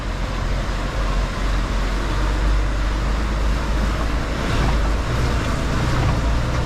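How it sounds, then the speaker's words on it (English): A Mercedes Actros truck spins its wheels in mud while driving on a muddy track, producing a steady, loud low rumble of engine and churning with constant broadband noise throughout. "Wheel spin!"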